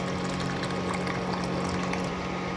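Dal (lentils) pours into a pan holding cooked egg, making a steady, close liquid gush and bubbling sizzle that runs continuously with no pause.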